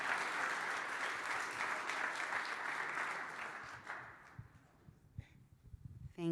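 Dense applause from the audience at the ETHLondonUK hackathon closing ceremony, clapping steadily for about four seconds before fading into scattered claps and room noise.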